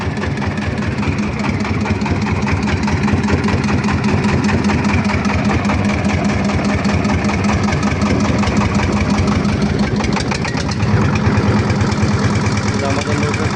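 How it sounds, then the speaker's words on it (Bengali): A wooden motorboat's engine chugs steadily and loudly on the Teesta river, a constant rough drone that runs throughout with voices faintly underneath. "নৌকা স্টার্ট দিয়ে এখন আমরা ওই পাড়ের দিকে চলে যাব।"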